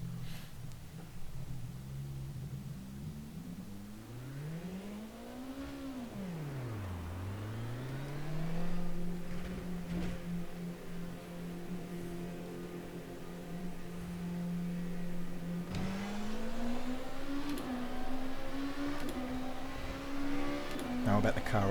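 A race car engine in rFactor2 climbs and falls in revs, then holds a steady drone before rising again, heard from the cockpit on a full fuel tank and worn tyres, moderately loud and continuous.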